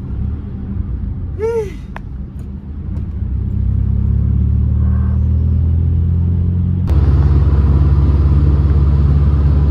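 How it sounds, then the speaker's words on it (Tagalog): Rush-hour car traffic queued at a toll gate, a steady low engine rumble that thickens and grows louder partway through, with a brief horn-like tone early on. "Dito na traffic to sa toll gate eh."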